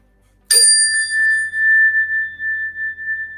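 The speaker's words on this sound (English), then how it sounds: "That's why my heart chime bell wasn't activated earlier." A single bright chime bell is struck once and left to ring out, a clear metallic tone fading slowly over several seconds in a quiet room.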